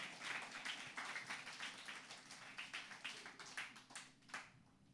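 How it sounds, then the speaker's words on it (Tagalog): A church congregation clapping in a rhythmic, fairly quick beat of many hands, sharp claps repeating steadily and thinning slightly toward the end. "At pumalakpak po sa ating Panginoon."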